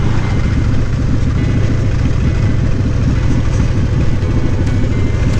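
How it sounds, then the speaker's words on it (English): Harley Davidson Street Glide engine while riding, a loud low rumbling drone with a throbbing pulse, steady throughout with road noise and no speech. "it's good to be out on the bike."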